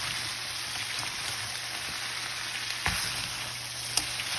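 Seafood quinoa fried rice sizzling in a pan while being stir-fried, a continuous hiss of frying with a couple of sharp utensil clicks.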